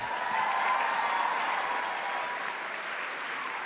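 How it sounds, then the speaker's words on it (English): An audience applauds an NBCC Award for Autobiography winner at a Simon & Schuster centennial event, a dense, sustained wash of clapping from a large crowd that tapers slightly toward the end. "Please give a big round of applause to the winner of this year's NBCC Award for Autobiography, Sophia Sinclair."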